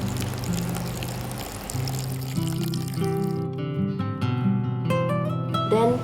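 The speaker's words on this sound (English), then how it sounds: "Fill the seeding tray with around 2 cm height of water." Water poured into a seedling tray to about 2 cm depth gives a continuous close pouring and trickling sound, its pitch rising as the tray fills, with music underneath.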